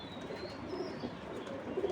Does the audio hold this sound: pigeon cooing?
yes